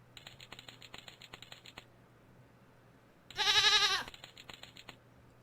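In the Rusty Lake: Paradise video game, a goat produces rapid typewriter-like clicking for a couple of seconds, then lets out a loud, wavering bleat, followed by more quiet clicks; no talking.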